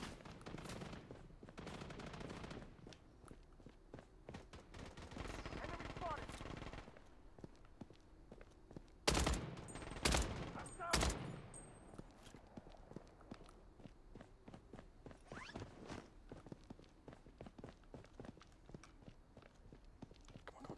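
Gunfire in a zombie battle royale video game: scattered shots and short bursts, with a few loud close bangs mid-way among fainter distant firing and footsteps, partly under talking.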